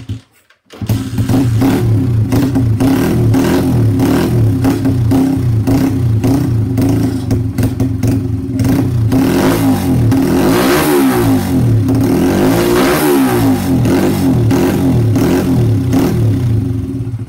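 A Dax motorcycle engine starting for the first time with very little fuel in the tank, then running loud and close, revving up and down repeatedly over a steady clattering idle.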